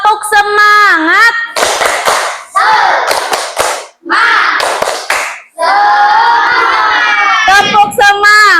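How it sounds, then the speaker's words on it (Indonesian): Indonesian classroom ice-breaker clapping game: a group chants in sing-song voices and answers with bursts of clapping in a set rhythm, alternating chant and clap close by. "Kita ice breaking, tepuk semangat."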